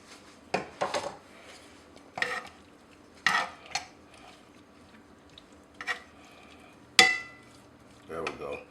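Garlic stirred in a pan beside asparagus, scattered scraping and clinking strokes of a utensil against the pan in irregular bursts over a quiet background, with a sharp metallic knock near the end.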